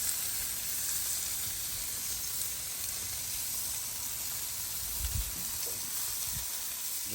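Corned beef steaks sizzle on a Blackstone griddle, a steady soft crackling hiss with a few faint low bumps, nobody talking.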